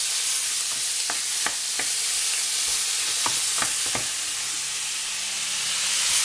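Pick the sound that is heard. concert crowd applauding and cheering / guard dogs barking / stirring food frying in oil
stirring food frying in oil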